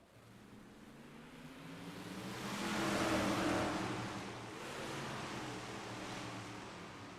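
Sim race cars rumbling around the dirt oval of Knoxville Raceway in the iRacing.com sim, engine drone swelling louder as a pack passes near, then easing back to a steady roar.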